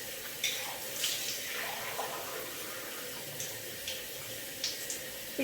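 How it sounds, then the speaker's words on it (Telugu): Water pours steadily into a bowl of idli and ragi flour batter, a continuous splashy rush with a few brief sharper splashes, heard up close with no talking. "మనం కొంచెం వాటర్ యాడ్ చేసుకుంటాం."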